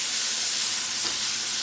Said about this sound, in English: now I'm frying them up